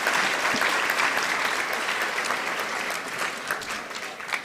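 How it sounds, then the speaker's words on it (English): Graduation ceremony audience in Windhoek applauding a graduate, sustained dense clapping from a large crowd that slowly thins and fades over several seconds. "Let's give him a round of applause, please."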